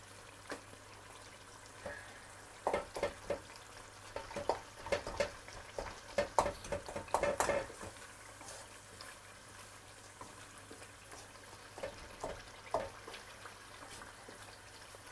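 Masala spices sizzling with a little water in a pot for an aloo biryani, soft crackles and spatters over a low steady hiss, with a cluster of brief stirring clatters in the middle.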